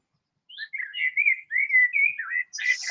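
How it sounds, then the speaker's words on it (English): A small, very loud bird perched nearby chirps and whistles in a rapid run of bright, sharp tweets after a brief silence, close and clear with no other sound around it. "super loud bird."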